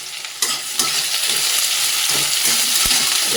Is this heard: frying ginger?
yes